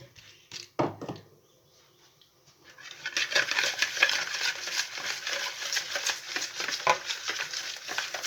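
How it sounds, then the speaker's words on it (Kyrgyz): Sugar, an egg and honey for cookie dough are mixed in a bowl. After a couple of early knocks and a pause, the utensil keeps up a continuous rapid scraping and whisking, close and moderately loud. "Жакшылап кум шекер эригиче аралаштырабыз."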